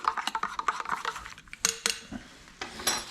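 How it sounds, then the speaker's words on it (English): A spoon scrapes and clinks against the inside of a cup while mocha drink mix is stirred. Quick rhythmic taps run at first, then slow to a few separate clinks, close and fairly soft. "And go ahead and give that another stir."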